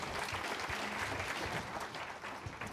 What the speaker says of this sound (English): So give everybody applause.